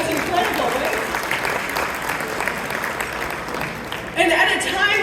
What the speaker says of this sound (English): Clap again for that picture